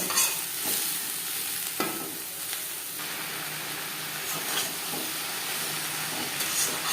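Ridge gourd and pointed gourd stirred with onion and chili in a hot pan, sizzling steadily with a few scraping stirs and bursts of steam hissing up close.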